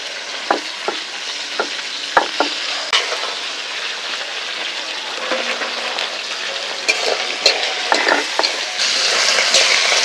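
Steady sizzling and crackling of food frying in a pan while preparing spicy Sundarbans crab curry, with sharp pops and occasional clinks of a utensil scraping the pan.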